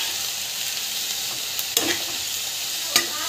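Coconut, tomato, coriander and salt sautéing in a pan, a constant close sizzle broken by two sharp spoon scrapes against the pan, no voices.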